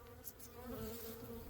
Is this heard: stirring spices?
no